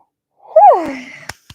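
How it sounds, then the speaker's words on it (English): A single drawn-out human yawn, rising then sliding down in a tired breathy sweep, followed by two brief soft clicks or breaths, close and fairly loud with no talking. "Sorry, little yawn."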